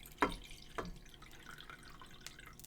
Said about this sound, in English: I'm going to pour the liquid into a bowl here.